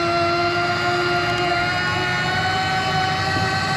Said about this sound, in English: keep that engine coming around